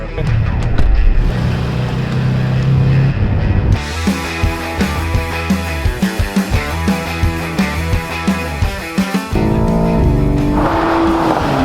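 A race car on a track revs and accelerates loudly, with a pulsing engine note rising through repeated gear changes, heard from inside the car, ending in a brighter high-revving whine.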